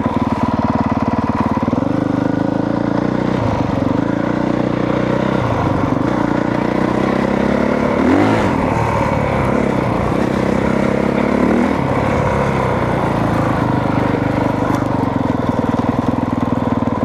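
A 2022 Honda CRF 450R dirt bike engine runs close and loud, idling steadily, with a couple of short revs rising and falling in the middle.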